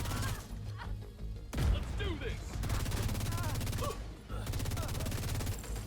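Assault rifle fire in The Division 2 video game comes in sustained bursts of rapid shots with impacts and crashes, broken by brief pauses, loud and dense over a busy game soundscape.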